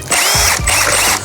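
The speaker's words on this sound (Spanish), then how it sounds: "Por menos de 4 euros convierte tu taladro en una lijadora con este accesorio." Electric drill fitted with a 40-grit sanding disc attachment, running loud and close with a steady whirring grind that dips briefly mid-way.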